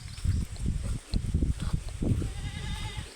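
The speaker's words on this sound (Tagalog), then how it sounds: "may kambing pala doon" A goat bleats repeatedly in short, wavering cries close by, with faint outdoor background noise between calls.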